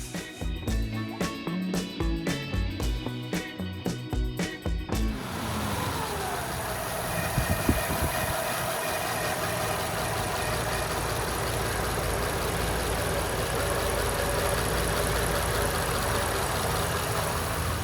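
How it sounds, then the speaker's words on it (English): A 1935 Ford Flathead V8 idles with a smooth, even mechanical purr close by, steady for most of the stretch after a rhythmic cranking or starting passage at the beginning. "So this is a Flathead Ford V8."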